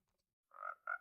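Frogs croaking in a Minecraft-style swamp, two short tonal calls in quick succession after a moment of near silence, fairly clear and close.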